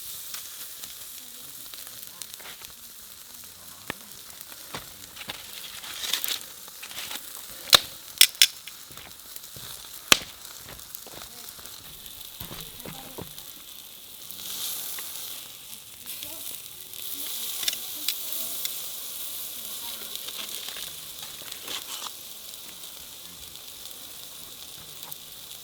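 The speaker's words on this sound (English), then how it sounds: "I'm gonna put the steak on and hopefully it sizzles." Steak sizzling on a camp grill, a soft continuous hiss with scattered sharp pops and crackles, louder and fuller in the middle stretch.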